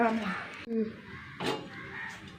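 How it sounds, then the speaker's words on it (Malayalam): Several crows cawing outdoors near a home kitchen, a few harsh calls rising over a low background, with a person talking across the short stretch. "ഇഷ്ടം പോലെ കാക്കകളാണ്"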